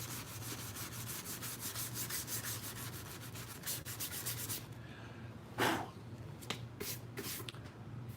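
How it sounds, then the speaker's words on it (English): A seam line on a Mandalorian helmet replica is hand-sanded, giving a steady, close, rapid back-and-forth rasping that runs for several seconds and then breaks into a few separate scrubbing strokes, with no talking. "So the seam line actually sands out great."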